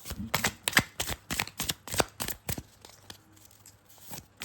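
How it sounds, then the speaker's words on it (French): Tarot deck shuffled by hand, a rapid run of crisp card riffles and flicks in the first half, then softer, sparser handling of the cards fading out, close and alone without any talk. "on va commencer avec l'élégant tarot de Irène Rust pour voir les énergies du mois"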